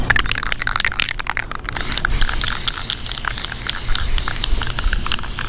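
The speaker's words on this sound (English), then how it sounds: "It's some flat black spray paint." Flat black spray paint hisses from an aerosol can as a guide coat is misted onto car bodywork, short bursts at first, then a steady close spray running throughout.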